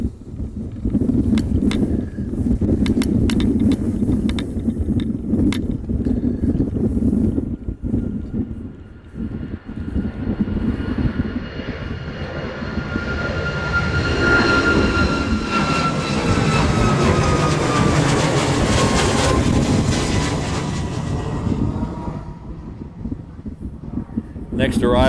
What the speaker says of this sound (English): looks like we have one more departure here, this Southwest, heading off to